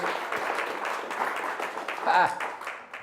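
A church congregation applauds in praise to God, a steady wash of clapping with voices calling out over it and a brief louder swell near the end.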